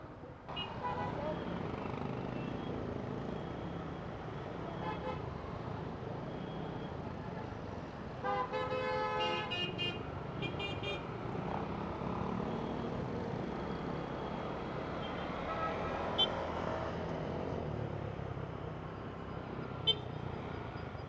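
Busy road traffic at a signal-light intersection in Olivares, with engines rumbling steadily and a car horn honking in several short toots, plus a couple of later beeps, all under ongoing talk.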